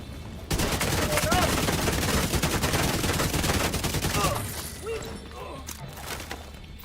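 Rapid, loud gunfire from enemies in a Division 2 firefight, dense automatic bursts hammering for about four seconds before easing into scattered shots and impacts.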